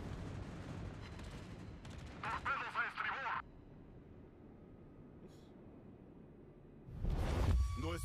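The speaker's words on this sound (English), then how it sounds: "Bombs away." Bombs dropping and blowing up in the World of Warships naval combat game: a heavy, close, booming blast with a rumbling tail near the end, after a stretch of quieter background noise and a brief burst of voice.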